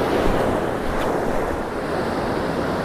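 Surf on California's Central Coast washes in as a steady, close roar of breaking waves, with wind buffeting the microphone throughout and no speech.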